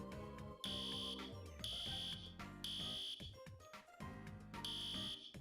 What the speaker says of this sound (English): I decide to go back to my roots of what I was known for in high school, pulling fire alarms